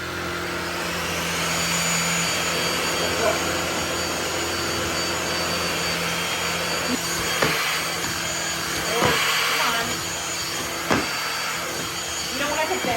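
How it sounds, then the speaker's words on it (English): A small handheld cordless dust buster vacuum whines steadily at close range for the whole stretch, with a few brief knocks and clicks over the motor. "This is so cool about this vacuum. It's a dust buster."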